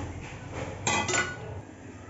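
A spoon stirs chana dal with buttermilk in a metal pot, giving a couple of brief clinks and scrapes against the pot over a quiet background.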